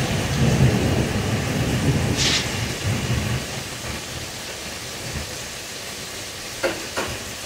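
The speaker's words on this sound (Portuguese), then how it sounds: "Já começou a chover." Steady heavy rain hisses throughout, with low thunder rumbling through the first half and a few brief sharp crackles near the end.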